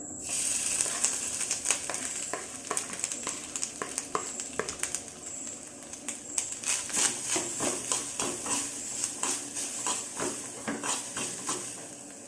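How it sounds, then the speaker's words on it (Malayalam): Grated coconut being stirred in a hot frying pan for kumbil appam filling, with a steady sizzle and hiss, frequent scraping and clinking of a spoon against the pan, close and continuous. "നമുക്കിത് നന്നായിട്ട് ഇളക്കി കൊടുക്കാം."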